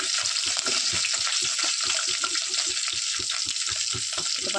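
Green chillies frying in a pan for chutney, a steady close hissing sizzle with crackling pops and faint stirring throughout.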